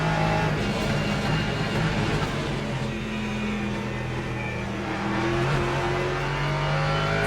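Race cars in the Le Mans Ultimate racing game roar together down a straight, a dense continuous engine whine as a Ford passes, steady and loud with no talk.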